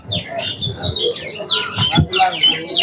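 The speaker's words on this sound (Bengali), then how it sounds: "পাখি গান করছে।" Small birds sing and chirp continuously at a busy market in Nawabganj, Dhaka, with bright overlapping tweets up close over a low murmur of market noise.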